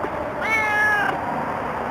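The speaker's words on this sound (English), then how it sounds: "Why are you meowing?" A cat gives a single clear, drawn-out meow close up, rising then falling over about half a second, with quiet room sound around it.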